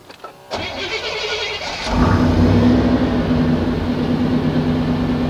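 Chevy truck engine, a 1988–1998 model, cranks briefly then catches and starts, settling into a loud, steady idle close by.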